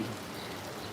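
Heavy rain pours steadily in a village area of Brahmanbaria, a constant dense hiss of drops on surfaces, fairly quiet and even, with no talk.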